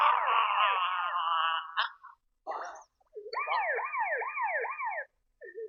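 An ambulance siren at a Ramlila comedy performance wails with rising and falling harmonic sweeps, loud and close, cutting out briefly and then resuming in a fast rhythmic wail.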